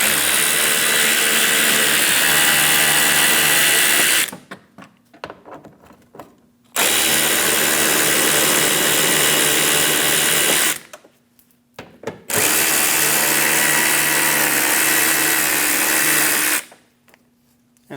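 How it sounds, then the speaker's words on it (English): Power tool with an 8mm socket spinning out three bolts behind the wheel well of a 2011-2018 Ram 1500 5.7L V8, in three loud sustained bursts with short pauses between them. "Using an 8mm socket, we're going to go up and remove the 3 bolts."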